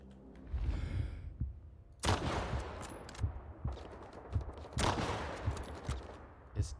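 Several loud hip-fired shots ring out in S.T.A.L.K.E.R. 2, two heavy blasts followed by scattered smaller cracks and tails, after a brief low rumble at the start.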